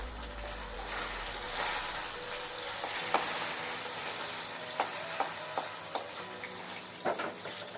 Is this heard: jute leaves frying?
yes